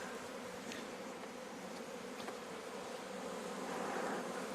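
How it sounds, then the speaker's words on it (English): Honey bees swarm around frames pulled from a newly split hive, a steady dense buzzing that fills the whole stretch at close range with no voices, swelling slightly louder toward the end. "We need to shake a ton of nurse bees."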